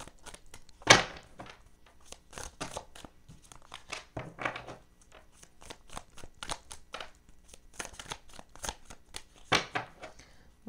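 Tarot cards being shuffled and handled during a reading, soft riffling, snapping and papery flicks in irregular bursts, close but fairly quiet.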